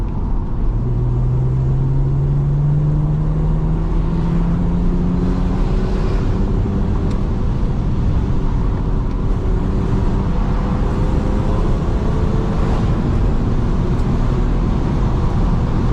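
A BMW E46 330Ci drives along a road and overtakes a Tesco truck, its steady engine drone and road rumble continuous and close, with a rising engine note early on.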